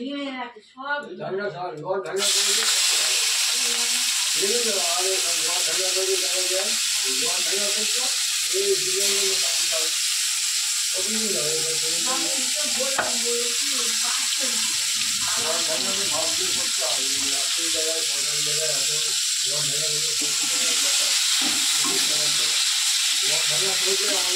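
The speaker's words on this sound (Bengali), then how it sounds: "চিংড়ি মাছটা ভাজা হোক" Shrimp fried in a pan give off a continuous hissing sizzle that starts abruptly and runs throughout, while a voice talks over it almost constantly.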